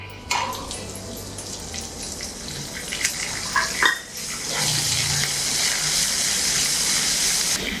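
Dried red chilies and curry leaves dropped into hot oil: a few clinks and soft rustles, then a sudden loud, steady hissing sizzle that takes over and holds to the end.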